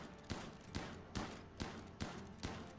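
In the video game RimWorld, a burst of gunfire is aimed at a boar: about seven sharp shots in a rapid, fairly even rhythm, close and loud, with no talking.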